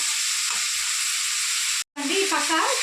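Chicken pieces frying in oil with garlic chili powder give off a loud, steady sizzling hiss that breaks off briefly, then resumes as a voice speaks over it.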